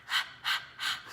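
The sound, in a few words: person imitating a dog panting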